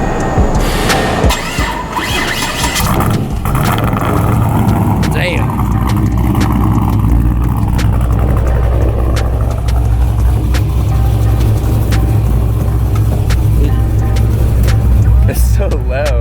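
A loud V8 engine in a 500+ hp Pontiac GTO rumbles steadily at close range, with deep exhaust tone and occasional revs, while a person talks over it.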